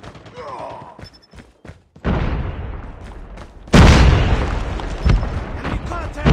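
Grenade explosions in Call of Duty gameplay, two heavy booms a couple of seconds apart, loud and close, each followed by a long rumbling decay among battlefield noise.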